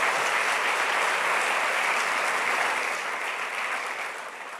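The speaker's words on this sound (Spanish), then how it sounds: "El Señor se merece un grande aplauso." A church congregation applauding, a dense sustained clapping that holds steady, then gradually fades toward the end, with no speech over it.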